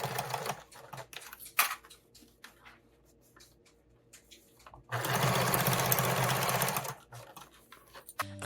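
A sewing machine stitches a fabric tool storage roll around its corners and over wrinkles, running in short bursts with pauses, then a long steady loud run before stopping and restarting.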